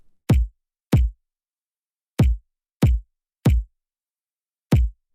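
Bass drum hitting the strong beats of a pattern: six deep, punchy thumps spaced unevenly in a rhythmic groove, close and dry, with silence between them.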